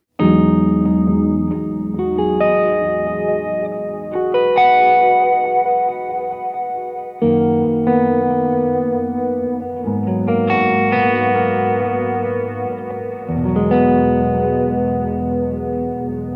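Electric guitar playing sustained chords and melodic phrases through a Jet Pedals Red Sea, delay on the left and reverb on the right, each note trailing off in repeating echoes and a wide reverberant wash, loud and continuous.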